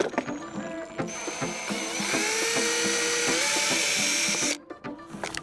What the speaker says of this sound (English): So first I'm gonna drill a pilot hole with this tiny little.